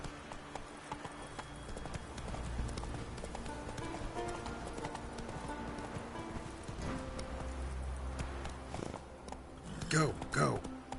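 Hooves of a horse clip-clop steadily in The Witcher 3, a continuous rhythmic walking-to-trotting gait under game music and ambience, with a voice speaking over it.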